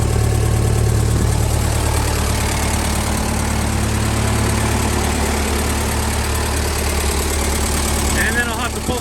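A Massey Ferguson 135 tractor engine idles steadily and loudly up close in an even, continuous rumble, with a brief metallic noise near the end.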